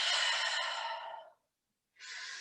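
A deep, breathy exhale during a wide-legged yoga forward fold, long and steady before fading out, then a second softer breath after a short silence, close and clear.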